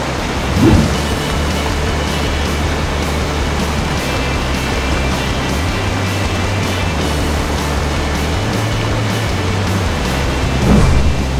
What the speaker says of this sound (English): Close to the waterfall, so I can actually hear.